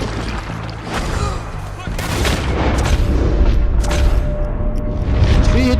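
Gunfire rings out in a Red Dead Redemption 2 shootout with raiders, a dense run of sharp shots and booms with lingering echo. It stays loud and continuous over a steady game backdrop, and no voices come through.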